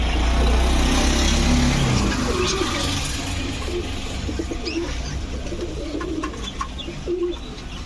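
Big pigeons, a Budapest and racer flock kept for sale, coo in low murmurs close by among steady background noise and a passing vehicle hum.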